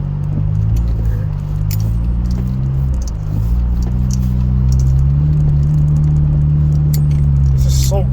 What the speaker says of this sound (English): The thick snow slowed me down a bit, but I'm still getting through it.